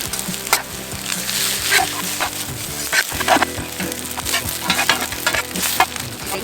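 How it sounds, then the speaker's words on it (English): Potatoes and sausage fry on a 17-inch Blackstone griddle: loud crackling sizzle punctuated by repeated spatula scrapes and taps at an uneven rhythm. "We're starting with the potatoes and the sausage because they're going to take the longest to cook."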